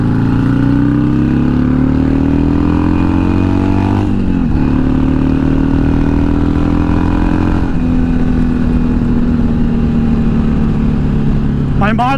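A motorcycle fitted with Reinhardt slip-on exhaust pipes runs loud and close with a steady engine note, rising slowly in a long rev before settling back to idle, ending in another short throttle blip.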